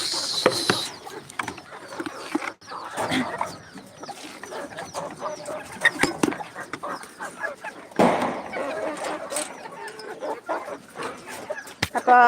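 Black karinkozhi chickens cluck busily at feeding time, their calls near and fairly loud and overlapping in irregular bursts, with a few sharper squawks mixed in among the pecking flock.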